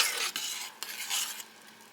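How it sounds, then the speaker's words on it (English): Minute rice being stirred in a pot, with a few quick scraping strokes over a hissing simmer, close and moderately loud, then fading to a quieter hiss. "Get that all stirred up."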